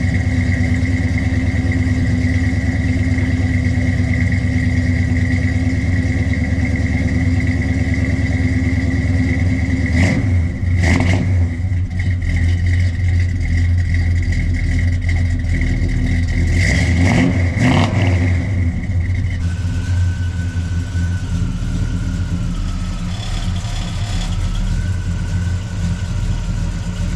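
A 1970 Chevrolet Chevelle SS 454 with a five-speed runs close and loud. It holds a steady rumbling idle, then gives a few sharp revs around the middle before settling back to a lower idle.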